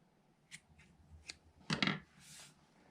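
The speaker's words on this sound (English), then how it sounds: "you can trim it at the bottom to kind of tidy it up if you want to" Scissors snip the loose ends of a yarn tassel made for a crocheted C2C shawl: a few light, spaced cuts, then a quick louder double snip and a soft trailing rustle, all close and quiet.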